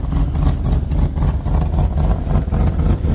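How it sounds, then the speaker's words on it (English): Old square-body pickup with an LS engine swap and an exhaust leak, running with a loud, rough, steady rumble and puffing exhaust noise throughout, close up with no talk. "exhaust leak"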